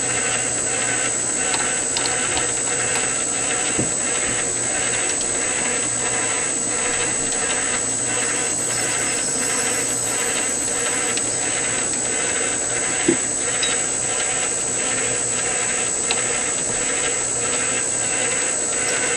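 A power drill bores holes through a boat motor mount during repair, a steady whining drone with a faint rhythmic pulsing running throughout at moderate level, without a break.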